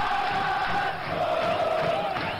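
Vasco football fans in a stadium during a match against Flamengo roar and chant together, a loud, sustained crowd swell with sung tones running through it.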